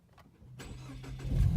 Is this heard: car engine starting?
yes